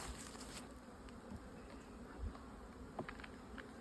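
Honeybees buzz steadily around a freshly split hive on a cold, frosty morning, a close, continuous hum with brief louder passes of individual bees near the microphone.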